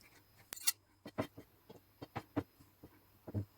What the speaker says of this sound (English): Because this pepper is hot, I will be using my fork to support it while I cut it.